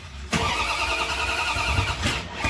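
A car engine cranks and catches, then runs with a steady, loud mid-pitched drone for about two seconds before another burst at the end; no talking.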